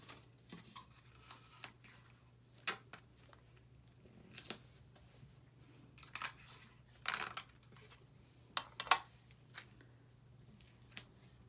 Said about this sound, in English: I'm going to tape these together